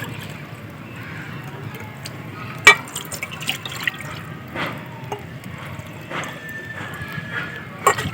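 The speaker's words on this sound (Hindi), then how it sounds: "उसके लिए पानी लेंगे।" Water poured from a container for making sugar syrup for gulab jamun in a village kitchen, a soft steady trickle with a few drips and light clinks, heard close and alone.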